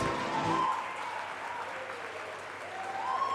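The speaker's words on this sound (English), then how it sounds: "let's have one huge round of applause for every single student who has graduated" Audience applause at a St. Xavier's College Mumbai graduation ceremony, honouring graduating students; a dense, steady wash of clapping from a large crowd that carries through the whole stretch without a pause.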